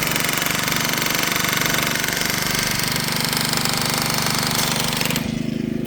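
A loud power tool cuts up bins for loading onto a van, a harsh continuous rattling buzz with a pounding, engine-like pulse that runs without pause and drops off near the end.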